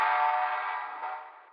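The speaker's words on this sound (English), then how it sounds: "This is like a stretched ride hit." A time-stretched ride cymbal hit rings out as a smeared, sustained metallic shimmer, starting with a sharp attack and slowly fading over about a second and a half.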